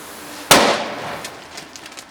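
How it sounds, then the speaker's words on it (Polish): A firecracker bursts with a single sharp, loud bang during New Year's Eve celebrations, followed by fading crackle and a few faint distant pops. "Ostatnia petarda chyba na te strzelanie albo przedostatnia."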